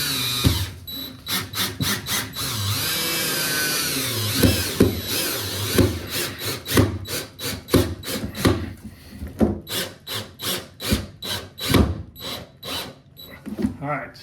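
A power drill drives screws with fender washers into a boat's bow, in repeated short whirring bursts with ratcheting pauses between them, close and loud, with some talking underneath.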